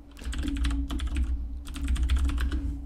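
Computer keyboard typing in two quick close bursts of crisp keystrokes with a short pause between, over a steady low hum, no voice.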